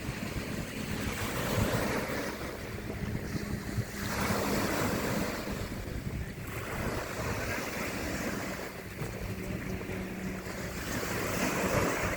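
Waves wash continuously onto a shore in Sarnia, Ontario, with strong wind buffeting the microphone, a loud, steady roar that swells and eases every few seconds with no voices.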